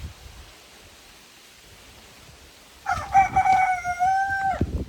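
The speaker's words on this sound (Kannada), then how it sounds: "ಕೋಳಿ ಗುಡ್ ಮಾರ್ನಿಂಗ್ ಹೇಳ್ತಾ ಇದೆ" A rooster crows once, fairly close and clear, after a few seconds of quiet outdoor background hiss.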